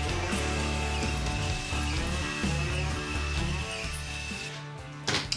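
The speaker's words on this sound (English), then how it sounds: "I've just put a small grinding stone, some of the grinding stones that I've got on here, and I've just been working it around" A small grinding stone on a rotary tool is worked around in circular motions during repair work on a 1982 Harley-Davidson Shovelhead FLHT, giving a steady, close, whirring grind with ratchety mechanical texture that eases off near the end.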